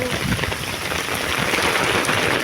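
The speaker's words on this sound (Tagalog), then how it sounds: "malakas ang ulan" Dense, steady typhoon rain pours down in Hong Kong, a broad continuous hiss with scattered patters of drops hitting a surface, fairly loud and close.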